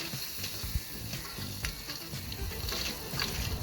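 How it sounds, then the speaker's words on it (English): Potatoes sauté in chicken drippings on a small pan beside beer can chicken, giving a continuous close sizzle with scattered crackles and pops and a few stirring scrapes. "I'm going to now toss them right onto this little pan that's been collecting everything, so they can do one last little saute"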